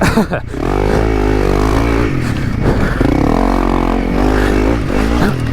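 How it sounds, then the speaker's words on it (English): A motorcycle fitted with an aftermarket exhaust rides past close by, its engine droning loud and steady with a deep rumble after a brief opening clatter. "The bike's just cleaner with this exhaust."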